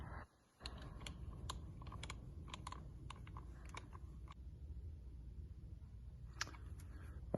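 Small screws on a custom IWB holster are tightened a bit at a time, giving faint, scattered clicks and light taps over a quiet background hum.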